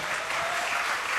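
Audience clapping together at a talk show event, a short burst of dense, steady applause filling the room.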